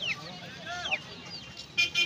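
Aseel chicks at the Uluberia hen market peep and cluck in brief high chirps, with louder bursts near the end amid market noise.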